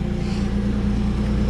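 The engine of a used 1990 car idles on a chilly morning after snow, a steady low rumble that stays close and even for the whole short stretch.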